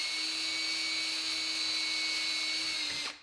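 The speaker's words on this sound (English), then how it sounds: "Drill those holes in preparation." A power drill bores holes through a thick piece of wood to prepare for scroll saw piercing on a small Cupid cutout. The steady high whine is near and continuous for about three seconds, then winds down, with no talk.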